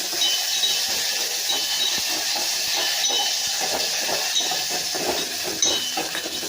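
Tomato juice hits a hot frying pan of fried onions and curry leaves for a chicken fry, giving a loud, steady, close sizzling hiss that continues without a break.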